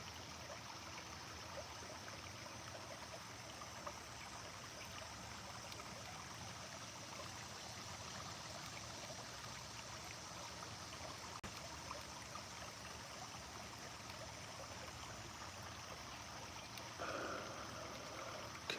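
A mountain stream flows steadily, a constant close rushing and trickling of water with no break, and a brief faint knock near the end.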